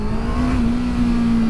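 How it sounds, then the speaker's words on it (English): Honda CBR650R motorcycle engine revving during a first ride, a loud, close, steady droning tone held briefly at high revs with wind rush around it. "now I'm revving it a bit more."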